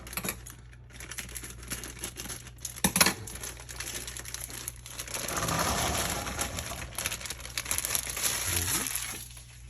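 A 12-ounce bag of fresh cranberries handled in a kitchen, with crinkly plastic rustling and crunching close by in irregular bursts, a few sharper crackles and a louder stretch of shuffling midway through.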